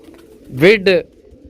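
A single close pigeon coo, a two-part throaty call rising and falling, stands out clearly against near-silence.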